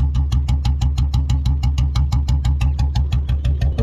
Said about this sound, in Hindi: अब मैं आपको पीछे जाके इसका एग्जॉस्ट का साउंड सुनाता हूँ